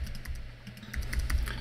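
Keys clatter steadily on a computer keyboard in a short burst of typing, close and moderately loud, with no voices.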